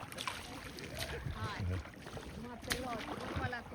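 Paddles splash and churn water as a small boat is rowed on the Black Sea, quick close strokes with voices talking over the watery sloshing.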